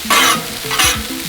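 Stir-fry sizzles loudly on a Blackstone griddle as it is spread out, bursts of frying hiss rising and falling with scraping and stirring, close and alone without voices.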